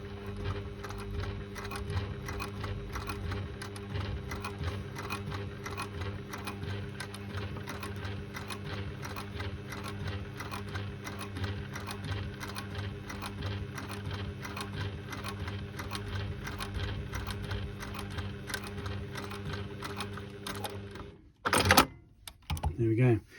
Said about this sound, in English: Sew through that without a problem at all.